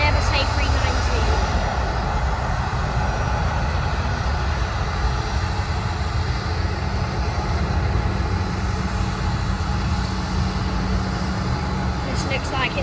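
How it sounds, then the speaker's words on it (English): Airbus A319 jet operated by Lauda taking off at London Stansted Airport, a loud continuous roar of engine noise and rumble holding steady throughout, with no speech over it. "The Lauda is off. It's an Airbus A319."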